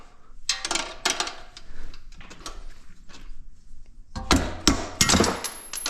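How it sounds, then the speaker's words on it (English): Several sharp metallic taps from a rubber hammer striking a bolt ring out in irregular bursts during a lift install on a Honda 520 Rubicon ATV, some clustered quickly together, close by with clattering and rustling between strikes. "Get your little rubber hammer, give it a little tap tap."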